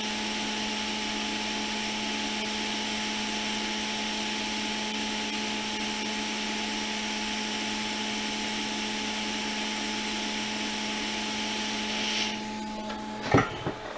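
Continuous steady hiss of a hot air rework station blowing on a 2017 13-inch MacBook Air logic board to lift off a component, with faint tonal whine throughout, ending in a brief clatter.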